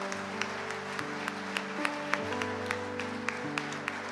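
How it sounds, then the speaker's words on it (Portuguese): A church congregation claps at a service, the applause steady and moderately loud over a sustained music bed of held tones, with a few sharper accented claps standing out in a loose rhythm. "Só quem acredita nisso aplauda Jesus."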